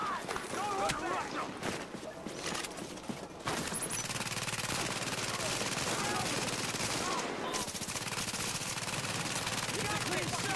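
Dense automatic gunfire in Tom Clancy's The Division during a rooftop comm relay fight, with rapid overlapping bursts from several weapons that run almost without pause, while players shout over the shooting.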